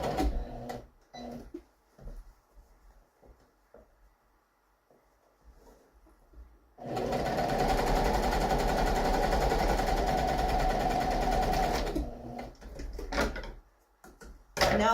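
A sewing machine stitches a French seam in one steady run of about five seconds, preceded and followed by quiet handling noises.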